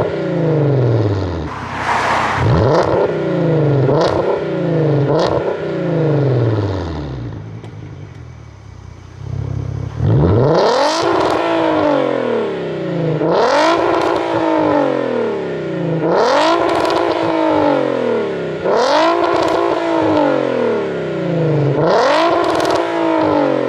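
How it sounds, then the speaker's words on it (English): A loud VW Passat engine revs hard again and again, each blip climbing sharply then dropping, with a brief idle lull midway before the aggressive revving resumes. "I'm gonna do some more revving clips"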